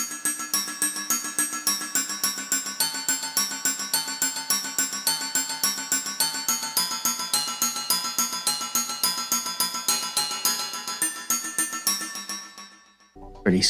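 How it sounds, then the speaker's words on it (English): A bright, bell-like synth arpeggio repeats steadily in a quick pattern for over ten seconds, then fades out abruptly. "I made a cool like arpeggio thing that goes throughout the whole song."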